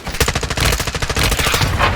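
Rapid automatic gunfire from a Modern Warfare 2 campaign battle, dense overlapping bursts and shots close and loud throughout, with no talking.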